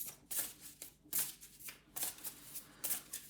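Tarot cards shuffled by hand in several quick, rustling riffle bursts with brief pauses between them, close and clear with no talking.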